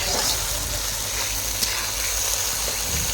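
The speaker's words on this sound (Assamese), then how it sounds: "সেয়া এতিয়া তাই ভাজি আছে" Steady, dense sizzling of chicken pieces frying in hot oil, constant and fairly loud throughout with no talking.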